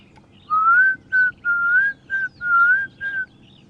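Klaas's cuckoo, back from migration, calling on a morning safari drive: six clear, slightly rising whistled notes in a steady series, loud and close over faint background hum.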